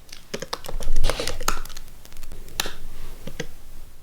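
Keystrokes on a computer keyboard as a terminal command is entered, a run of close, crisp clicks in uneven bursts with short pauses, heard alone without talk.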